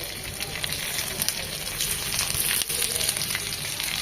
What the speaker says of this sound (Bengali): তো ধীরে ধীরে আরও 3-4 মিনিট ভেজে নেব